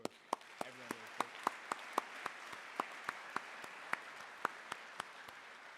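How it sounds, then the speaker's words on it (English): Sparse, slow claps ring out at a Marine Corps promotion ceremony: a handful of people clapping in a steady rhythm, each clap distinct and moderately near. Some faint voices are heard briefly near the start. "So round of applause for everyone here."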